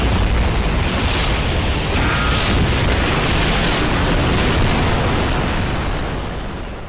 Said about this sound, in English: Fiery explosion occurred,